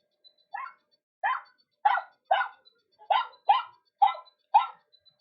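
A dog named Sharko barks in a yard, about eight sharp, clear barks in uneven pairs and singles, close and loud with brief silences between, no talking.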